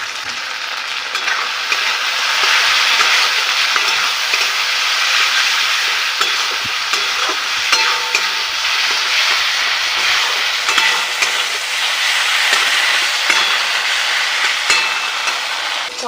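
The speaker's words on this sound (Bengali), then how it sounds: "কড়াতে মশলাটা কষতে দিয়েছি" Masala paste of tomato, ginger-garlic paste, salt, turmeric and chilli powder frying in a wok, a loud continuous sizzle with intermittent stirring scrapes, close and steady.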